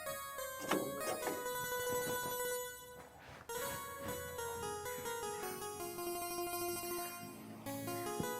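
A melodic phone ringtone plays loudly and continuously, a repeating electronic tune with bright tones and no talking.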